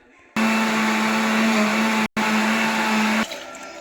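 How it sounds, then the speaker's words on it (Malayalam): A mixer grinder blitzes fish curry masala in its jar for a Wayanad-style sardine curry, a loud, close, steady motor whine that cuts out briefly once, resumes, then stops, leaving a faint background. "ഇതെല്ലാം കൂടെ മിക്സീൻ്റെ ജാറിലിട്ടിട്ട്"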